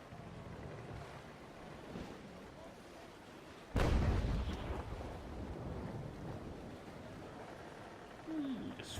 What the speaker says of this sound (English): Just firing off a few little shots